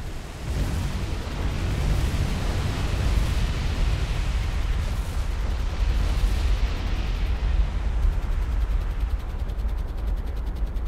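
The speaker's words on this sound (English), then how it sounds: "Watch the sun get blotted out by my bombs." Bombs exploding in the naval combat game War on the Sea, a continuous rolling barrage of heavy blasts and rumbling booms, loud and sustained without pause.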